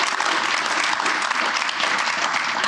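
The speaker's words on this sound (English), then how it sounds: "Please give them a round of applause." A breakfast-event audience gives panelists a round of applause, with loud, sustained clapping from a full room that stays even and close throughout.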